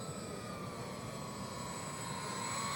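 A GWS C-130 Hercules RC model plane flies overhead with its electric motors giving a steady, continuous whine and drone that holds evenly at moderate level throughout, with no voices.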